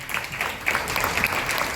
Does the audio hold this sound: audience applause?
yes